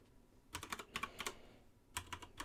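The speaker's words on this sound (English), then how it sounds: "on the keyboard I'm going to do Control S, and remembering the naming convention of the queries, type in query" Quiet, close typing on a computer keyboard, bursts of quick key clicks in three short clusters with brief pauses between them.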